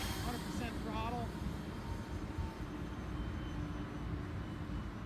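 Horizon Hobby Spitfire 1.2 m RC model plane on a 4S 2200mAh pack, its electric motor held at a steady throttle with a continuous droning whine, wind noise and faint voices mixed underneath.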